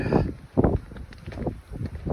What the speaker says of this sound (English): It is windy as all get out.